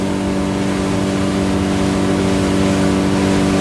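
A Jeanneau Leader 7.5 WA boat's engine runs at wide open throttle around 5,700 RPM, a steady, loud mid-pitched drone with hull and water rush blended in, continuous and unchanging throughout.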